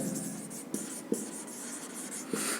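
Chalk or marker writing on a board during a maths lesson on functions, heard as steady scratchy strokes with a few brief taps, close and fairly faint, with no talking.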